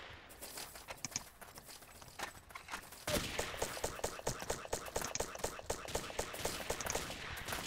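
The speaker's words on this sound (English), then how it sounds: "What's he shooting at?" Rapid gunfire from the blocky multiplayer shooter Ace of Spades beta, a loose stream of sharp shots that turns into a dense, steady volley partway through, with a voice speaking over it.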